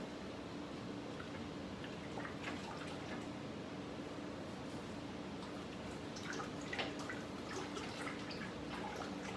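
Cold and hot water being stirred together in a fermentation bucket for homemade black grape wine, a steady soft sloshing and dripping texture with faint splashes and ripples throughout, fairly quiet and continuous.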